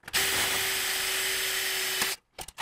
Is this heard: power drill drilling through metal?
yes